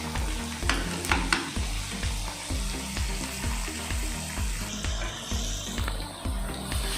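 Chicken biryani masala, tomato, lemon, salt and red chili being stirred in a hot pan, with steady sizzling frying under repeated scraping strokes of a spoon, close and fairly loud throughout.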